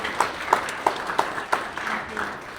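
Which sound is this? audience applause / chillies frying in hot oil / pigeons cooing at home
audience applause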